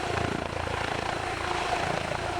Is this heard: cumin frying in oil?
no